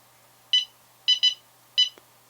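Short, high-pitched electronic beeps from a DroneKeeper Micro drone locator buzzer in a one, two, one pattern: a single beep, a quick pair, then another single, with quiet gaps between.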